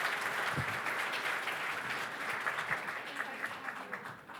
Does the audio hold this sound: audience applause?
yes